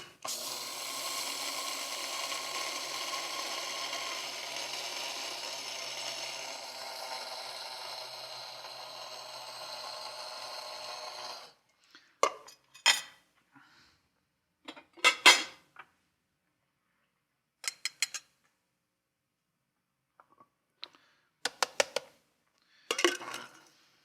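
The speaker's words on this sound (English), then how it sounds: "going to funnel this right into the spice grinder. And it should go very, very quickly." Electric spice grinder whirring loudly for about eleven seconds as it grinds toasted flax seeds, then stopping abruptly, followed by scattered short clicks and taps of handling the grinder.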